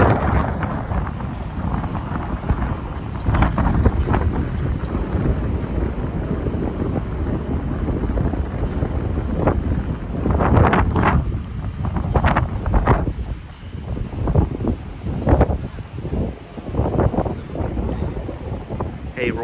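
Strong wind in Miami at night roaring and buffeting against the microphone, continuous rumbling gusts with occasional sharper bursts, loud and close.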